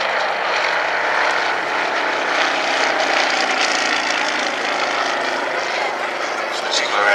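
A Comper Swift propeller plane flies past at an airshow race day, its engine making a steady, broad droning roar that stays constant throughout while a commentator talks over it.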